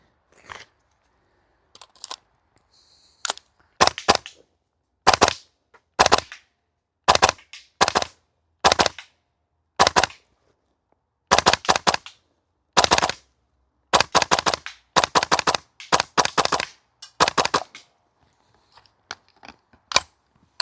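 A Double Eagle DWS Lupus airsoft rifle fires in repeated bursts and single shots, each a sharp, crisp snapping crack with clean silence between, loud and close, with a few faint clicks in the gaps.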